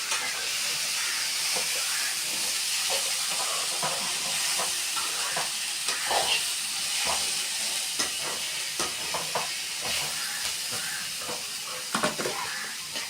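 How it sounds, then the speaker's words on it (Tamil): Cabbage sautéing in a pan for vegetable Maggi noodles gives a steady, fairly loud hiss and sizzle with scattered scraping clicks of a spatula, close by and without talk. "போட்டுட்டு நல்லா வதக்கி விட்டுடலாம்"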